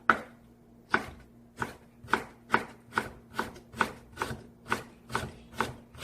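A knife cuts cabbage into thick bite-size pieces on a cutting board, about a dozen crisp, evenly spaced chops, close and clear against a quiet background.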